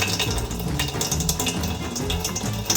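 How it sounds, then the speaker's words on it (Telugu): Tap water runs steadily and close by into a vessel as rice is readied for cooking, a continuous splashing flow with no voices. "సో ఫస్ట్ నేను వాటర్ ఆన్ చేసుకుంటా."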